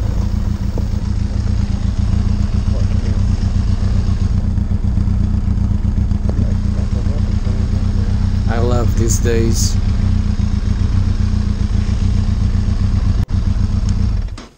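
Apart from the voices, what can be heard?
motorcycle engine idling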